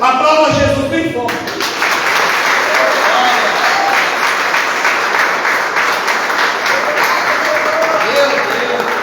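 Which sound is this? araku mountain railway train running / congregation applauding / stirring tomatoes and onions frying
congregation applauding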